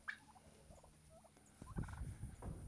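Free-ranging farm turkeys gobble, a short faint call at first, then a louder, nearer burst of rapid gobbling toward the end.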